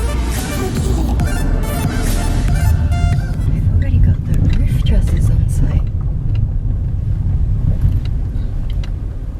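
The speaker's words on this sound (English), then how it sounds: "we're in the car, we've got out of Clermont-Ferrand and we're on our way" A rental car drives along a road in France, its engine and tire rumble a steady, close low drone throughout.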